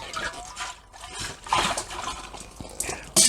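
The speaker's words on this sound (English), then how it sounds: "we're going to tip this sanitizer out" Sanitizer liquid being tipped out of a secondary fermenter while home-brewing a ginger saison, giving an uneven splashing, trickling pour over about three seconds with a louder gush near the end.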